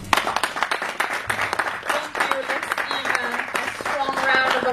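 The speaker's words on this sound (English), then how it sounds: "Applause to this panel." Audience applauding a panel at a public finance conference session: dense, continuous clapping fills the room, moderately loud and steady, with some voices mixed in throughout.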